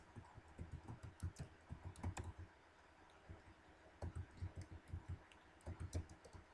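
Quick bursts of typing on a computer keyboard, close and faint, with clusters of crisp key clicks separated by short pauses.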